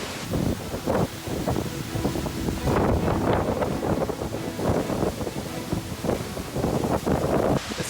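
Seljalandsfoss waterfall in south Iceland roars close by, a loud continuous broadband rush with gusty wind buffeting the microphone in bursts.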